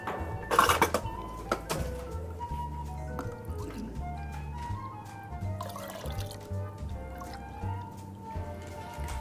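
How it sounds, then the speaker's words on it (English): Cranberry juice, two cups' worth, pours and drips into a container in a close, moderately loud stream with splashy trickles, while soft background sounds continue beneath. "And our 2 cups of cranberry juice."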